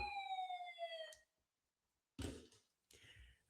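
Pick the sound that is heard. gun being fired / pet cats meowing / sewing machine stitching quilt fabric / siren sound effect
siren sound effect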